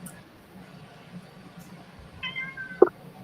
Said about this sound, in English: Somebody's pussy's meowing.